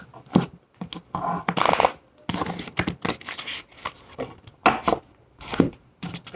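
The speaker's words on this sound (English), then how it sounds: "I'm going to shuffle this deck." A deck of tarot or playing cards being shuffled by hand, with repeated bursts of riffling and flicking in uneven rhythm, close and fairly clear, no talking.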